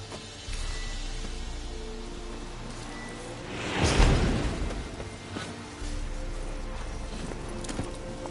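Hooves of a horse galloping in the video game The Witcher, a steady rolling clatter under a low game-world rumble, swelling briefly in the middle before settling back into the running rhythm.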